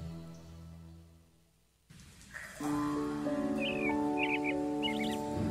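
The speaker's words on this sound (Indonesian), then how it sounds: "Pagi-pagi memang seneng banget dengar kicauan burung." Morning birds chirp in short, bright bursts over a steady tonal background, several brief calls at moderate distance, with no talking.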